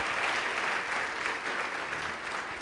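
A congregation at a live church service claps together in steady, full applause, a dense wash of hand claps that holds evenly throughout without speech.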